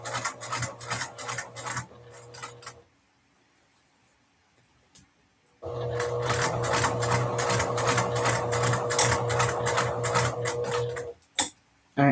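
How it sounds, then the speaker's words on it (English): Sewing machine top stitching a dress with an eighth-inch foot, a rapid rhythmic chatter of needle strokes in two runs separated by a few seconds of silence, close and steady. "I'm going to lower my needle. And we're going to top stitch"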